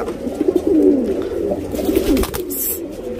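Pigeon cooing close by in a low, throaty, repeated burble of soft rolling phrases, with a brief rustle near the end and no voices over it.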